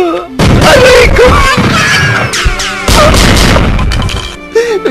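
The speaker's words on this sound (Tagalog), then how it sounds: "Ay, may bumaril." A loud gunshot bang in a Filipino comedy skit, a sharp crashing burst followed by a second blast, with people shouting and screaming around it.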